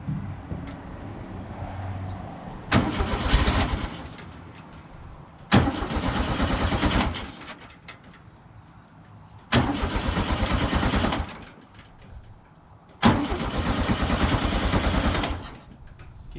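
A 1967 VW Bug engine is cranked four times in separate bursts, each a loud rhythmic churning of the starter lasting a second or two, with the engine catching and running briefly between attempts.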